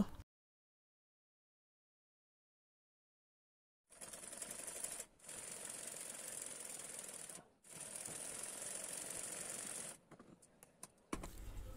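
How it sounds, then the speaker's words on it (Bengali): Sewing machine stitching the two-inch waistband of palazzo pants, running in three steady bursts of a few seconds each, separated by short pauses, after a stretch of silence. "এবার এই দুই ইঞ্চিকে আমি বোটে সেলাই করে নিব"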